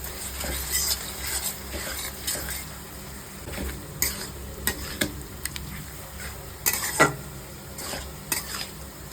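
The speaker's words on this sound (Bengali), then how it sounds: "এটা হালকা ভাজা ভাজা হয়ে গেছে" Taro leaves being fried and stirred in a pan: a soft steady sizzle broken by repeated sharp clinks and scrapes of a spatula against the metal, fairly close.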